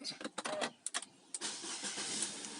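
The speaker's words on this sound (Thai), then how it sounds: "เดี๋ยวมาสตาร์ทรถกัน" A Nissan Teana J32 engine starts: a few short, faint cranking bursts, then the engine catches and settles into a steady, quiet running noise, with voices briefly present.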